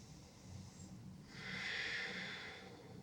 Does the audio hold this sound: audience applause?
no